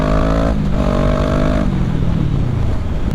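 A Kawasaki ER6N motorcycle's Akrapovic race exhaust roars loudly and close, holding a steady rev that then drops into a lower, rumbling idle.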